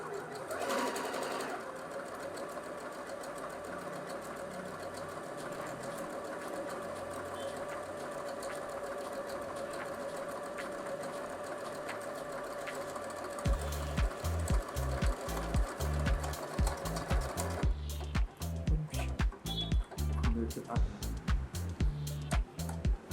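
An Usha Janome Sew Magic sewing machine stitches on a demo table, first with a steady running whir, then a loud, rapid mechanical clatter of needle strokes in quick regular bursts toward the end.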